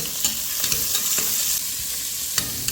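Onions sizzle steadily in a hot pan for a homemade mutton curry, a constant frying hiss broken by occasional scraping stirs of a utensil, close and fairly loud.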